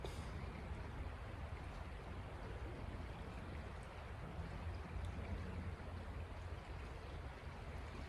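Spring Creek flowing right beside the listener in a wooded spot, a steady, faint rushing and babbling of water that continues evenly without a break or any talking.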